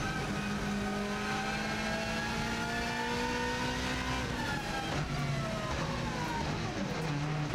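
Race car engine revving hard through the gears on an Isle of Man TT lap, approaching the Ramsey hairpin: a steady loud in-car engine drone with rising and falling harmonics and gear changes, no voices.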